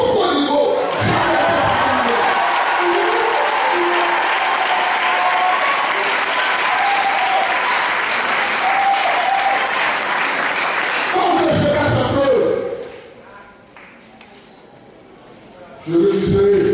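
Loud, dense applause from a large crowd at a Christmas Eve vigil in N'Dotre fills the space for about twelve seconds, then fades away abruptly, and a lone thump follows at the end.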